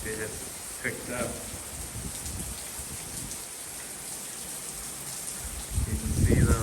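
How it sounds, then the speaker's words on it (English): Hurricane rain pours steadily with gusting wind in Florida, a broad hiss that builds near the end, while someone talks over it. "A lot more rain coming in. Wind."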